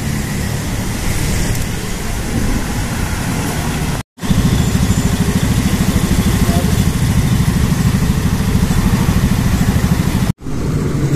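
An electric bike's motor runs at full throttle, a steady loud whirring hum with a faint rapid pulse, heard in two stretches separated by short gaps, with wind and traffic noise around it.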